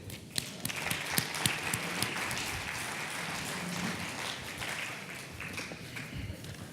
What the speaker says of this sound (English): And you are free to clap, obviously.